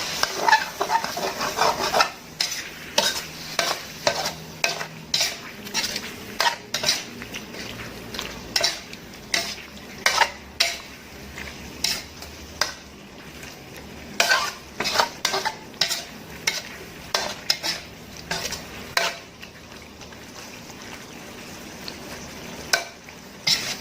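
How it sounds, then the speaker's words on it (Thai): Pork belly stir-frying in a pan with water added, a continuous sizzle broken by rapid, repeated scraping and clacking of a utensil against the pan, close up and with no voices. "ผัดจนหมูมันสุกได้ค่ะพี่น้อง"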